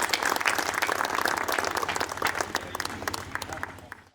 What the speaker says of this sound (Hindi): जोरदार तालियों से उन्हें आमंत्रित करें।